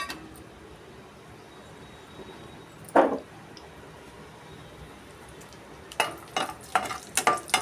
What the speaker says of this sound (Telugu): ఇదిగోండి జీడిపప్పు వేయించుకుంటాను.